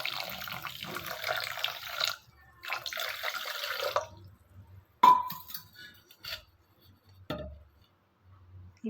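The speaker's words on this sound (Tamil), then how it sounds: "இந்த சர்க்கரை மூழ்கிற அளவுக்கு தண்ணி சேர்த்துக்கலாம்." Water runs and splashes into a pot of sugar in a home kitchen, with a long stream broken by pauses, followed by a sharp clink and a few faint knocks.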